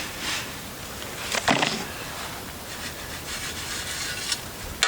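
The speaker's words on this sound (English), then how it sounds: "We'll get some more dirt in there to cover it up." Dirt is scraped and pushed over a set coyote trap outdoors, giving soft rubbing, gritty scuffs with one sharper scrape partway through, close and fairly quiet, with no talk.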